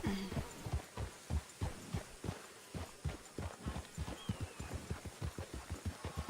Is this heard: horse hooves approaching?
yes